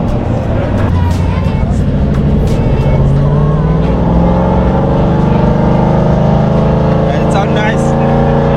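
An Aston Martin engine fires up and settles into a loud, throaty rumble that builds and holds steadily, with people talking over it.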